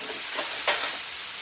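Two garlic cloves fry in a pan with a soft, steady sizzling hiss and a couple of faint crackling pops, heard briefly and alone.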